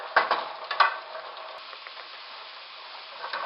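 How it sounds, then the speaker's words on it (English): Sliced peppers and onions softening in a pot, a faint low sizzle with a couple of soft stirring knocks near the start and a light scrape at the end, no voices. "I'm just going to let these cook for a little bit until they soften"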